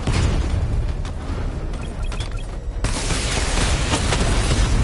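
Barrage explosions from a video game: dense, continuous booming and crackling bursts, loud and sustained, with a brief lull before the blasts intensify again.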